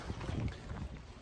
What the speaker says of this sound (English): But it's really windy now.